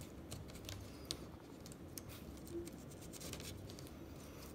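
Scissors trim window screen mesh on an arched DIY window screen frame, with a steady run of small, close, crisp snipping clicks and light rustles and no talking.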